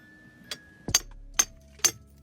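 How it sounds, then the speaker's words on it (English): Three sharp metallic strikes of a hammer on a chisel ring out at a steady pace, each a short bright clank, with a faint tap before them and quiet in between, while clearing a frozen drain. "Chisel and a hammer."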